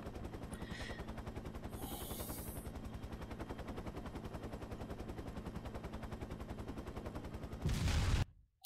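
Sustained rapid automatic gunfire rattles in a steady, fast rhythm in the military game ArmA: Armed Assault, with a louder burst near the end before an abrupt cutoff.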